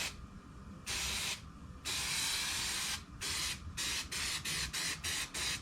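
Aerosol spray glue coats suede fabric for custom car interior parts in a series of close, sharp hissing bursts. Two longer sprays come first, then a quick run of short puffs, with no voices.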